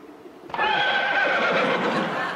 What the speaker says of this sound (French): les chevaux hennissent quand on prononce son nom